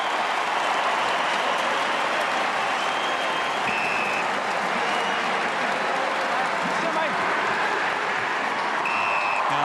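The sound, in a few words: football crowd applauding a player's 200th game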